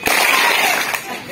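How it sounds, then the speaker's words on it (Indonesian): A group of junior high school scouts claps together in a quick, unified burst during a rhythmic clapping game, loud and close, with a brief crowd murmur around it. "Tepuk rame sekali."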